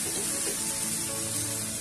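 Dry spices roast on low flame in a pan for veg pulao, giving a steady, close sizzle with fine crackling that continues evenly throughout.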